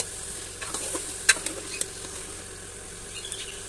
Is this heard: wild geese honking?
no